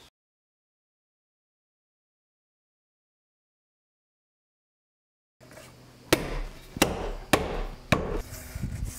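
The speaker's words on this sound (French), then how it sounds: "je vais redonner un petit coup de ciseau à bois où je vais légèrement raboter mon pied" A wood chisel trims the leg of a chestnut wood bench, giving several sharp, close knocks and cuts in an uneven rhythm after a long stretch of silence.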